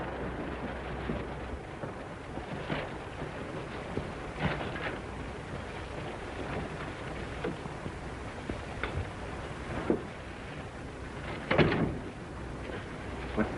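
Steady rain falls throughout a 1932 film scene, a soft continuous wash with scattered sharper drips and taps, heard alone at moderate level.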